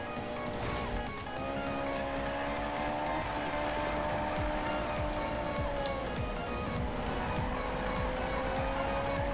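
Car drifting in the Need for Speed video game, a steady engine drone with sliding tire noise running continuously, loud and close, with music layered underneath.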